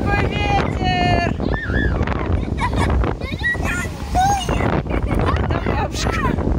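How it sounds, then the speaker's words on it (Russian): Strong outdoor wind buffets the microphone throughout, with people talking in Russian and a voice heard over the gusts. "Ой, какой ветер!"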